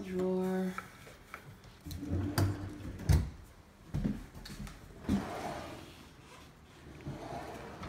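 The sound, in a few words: kitchen utensil drawer opening and closing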